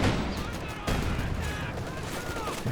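Raketenwerfer anti-tank gun firing at infantry in Company of Heroes 2, mixed with dense battle gunfire, sharp bursts and booms stacked over a constant loud din of combat.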